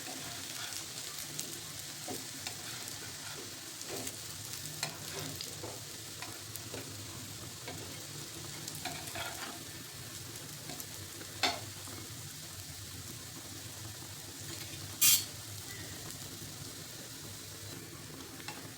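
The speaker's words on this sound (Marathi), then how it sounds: "म्हणजे खालची साईड व्यवस्थित फ्राय होईल" Steady, soft sizzling of taro leaf rolls shallow-frying in a pan over low flame, continuous throughout, with a brief sharp clink near the end.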